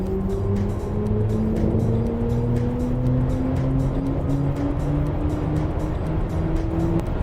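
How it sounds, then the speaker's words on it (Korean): A BMW iX40 electric SUV accelerating from the cabin, its synthetic drive sound rising in two steady climbing tones over a constant road and wind rumble, with no talking. "자, 이제 속도를 내볼게요."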